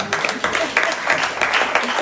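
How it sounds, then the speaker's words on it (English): An audience at a legislative forum breaks into brief applause, a dense wash of clapping from a room of people lasting about two seconds, with faint voices mixed in. "you can clap for that"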